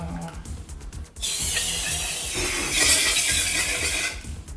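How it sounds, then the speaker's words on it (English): An aerosol spray can hisses steadily into a bottle while photographic chemicals are being mixed, a loud, continuous burst lasting a few seconds after a click and quieter handling sounds. "spray it for 5 seconds in the bottle"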